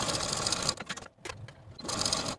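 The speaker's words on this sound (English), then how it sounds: "Sew your shoulder seams with a 3/8 inch seam allowance and press your seams open." A sewing machine stitching the shoulder seams of a jumpsuit runs in fast, even bursts, pausing briefly in the middle before starting up again, loud and close with no voices.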